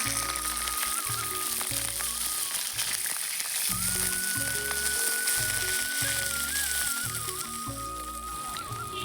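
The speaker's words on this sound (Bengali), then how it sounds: "এখন আমি সবজিগুলো ভেজে নিচ্ছি।" Vegetables fry in hot oil for khichuri, a steady close sizzle filling the whole stretch, with background music running underneath.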